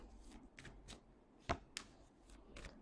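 Tarot cards are shuffled by hand for a reading, giving a quiet, close run of soft riffling bursts with one sharper slap near the middle.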